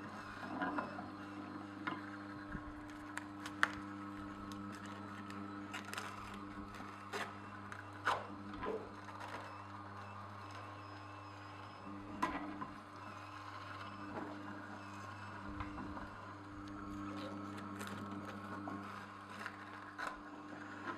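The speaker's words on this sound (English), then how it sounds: "once those gears grab it, they're kind of pulling it in" An Omega Twin Gear TWN32S juicer grinds produce through its twin gears with a low steady motor hum, dotted by faint creaks, snaps and crunches, all fairly quiet and close.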